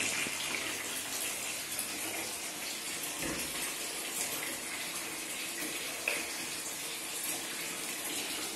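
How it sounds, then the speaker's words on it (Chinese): Hot water gushes steadily from a tap into a hotel bathtub, a continuous close rushing roar with faint splashing variations throughout. "我现在在放热水"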